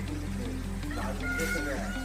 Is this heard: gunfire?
no